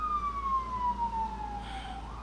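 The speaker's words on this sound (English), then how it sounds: "you stupid siren" An emergency vehicle siren wails in a long, slowly falling tone, steady and fairly loud over a low background rumble, with no speech.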